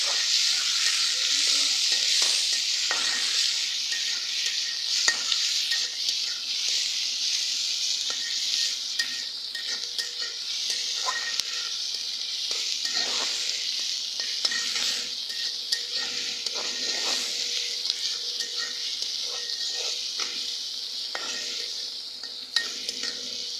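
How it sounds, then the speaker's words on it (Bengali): Onions, green chillies and shrimp fry in hot oil, a constant close sizzle broken by repeated spatula scrapes and stirring clatter against the pan throughout. "সব কিছু দিয়ে তেলের মধ্যে দিয়ে দিলাম। আর দিয়ে একটু নাড়াচাড়া দিয়ে ভালোভাবে পেঁয়াজটাকে একটু ভাজা ভাজা করব।"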